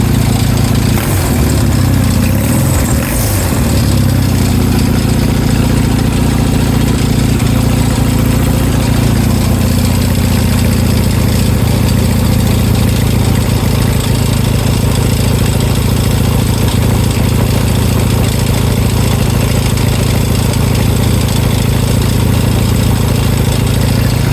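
A homemade rotary engine idles steadily right after starting, a loud, even, continuous rumble that runs alone the whole time after a brief rough catch at the start.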